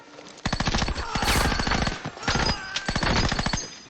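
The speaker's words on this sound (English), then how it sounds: "He's just got to start shooting." Heavy gunfire in a scene from the TV war drama The Pacific: sustained rapid machine-gun bursts and overlapping rifle shots, loud and dense throughout with brief gaps, and no one talking over it.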